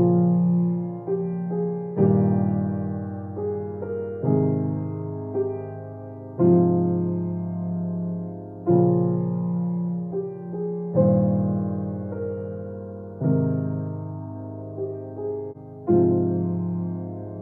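Solo piano plays a song at full tempo, with steady sustained chords and a melody line over them in a calm, even pulse, close and clear, with no talking.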